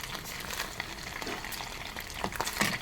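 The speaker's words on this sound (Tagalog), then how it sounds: "Guys, mag-fried siomai." Steamed siomai filled with mushroom, shrimp and pork fry in oil, giving a soft, close, continuous crackling sizzle with scattered pops, fairly quiet and without talk.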